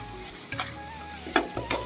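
Chicken for biryani frying in a pan with garlic paste, a soft steady sizzle close by, broken by a few sharp clacks of a spatula stirring against the pan.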